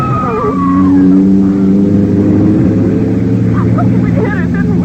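A powerful car's engine revving in a radio drama, a loud, steady droning roar whose pitch sweeps and shifts as the car speeds along, with a voice heard speaking over it.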